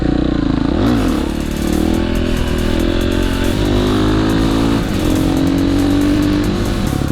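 Loud, steady engine noise with revving swells, like mopeds idling and accelerating close by, with no voices.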